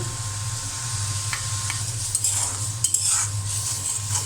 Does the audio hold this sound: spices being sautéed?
yes